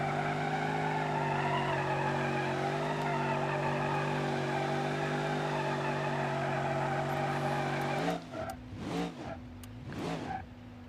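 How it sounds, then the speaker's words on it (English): A BeamNG.drive game car with a failing clutch doing donuts: a steady, loud engine drone holds for about eight seconds, then breaks into wavering revs and squealing tire skids, with no voices. "this thing actually did some pretty gnarly donuts"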